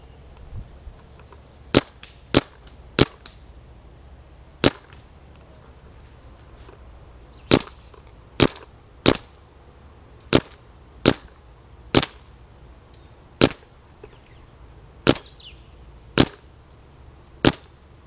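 A Planet Eclipse Etha 2 paintball marker fires about fifteen sharp, crisp pops at irregular intervals, some in quick pairs, each shot clear and isolated against a quiet background.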